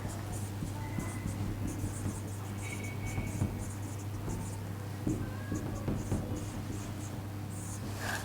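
A pen scratches steadily across paper up close, a soft continuous scribbling over a constant low electrical hum.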